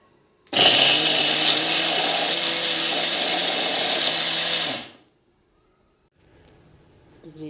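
A blender whirs continuously for about four seconds, loud and steady, blending watermelon with chaat masala and lemon juice, then stops abruptly, leaving faint background noise.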